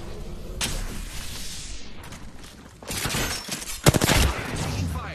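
Gunfire and impacts in Apex Legends, bursts of shots with shattering crashes growing denser and louder midway, heavy cracks near the end, with game effects and faint talk underneath.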